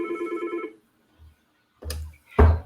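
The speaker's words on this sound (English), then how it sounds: "I forgot to silence my phone" A phone rings with a warbling electronic ringtone for under a second, followed by a few brief thumps and rustles nearby.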